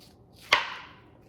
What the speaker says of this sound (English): I'm going to take a spoon and get the center of it out